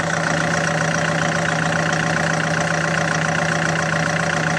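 A Citroën C4 Picasso 2.0 HDi diesel idles after being refuelled with petrol by mistake, giving a steady, even, close engine hum with a constant low drone and no talking.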